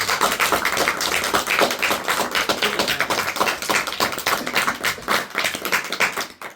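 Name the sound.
congregation clapping hands in thanks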